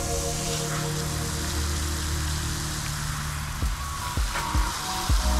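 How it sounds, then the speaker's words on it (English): Water hose spraying onto Indie Ridge Crow 4.0 riding boots in a waterproof test, a steady close hiss of spray with a few louder splattering bursts toward the end. "I've got the water hose going"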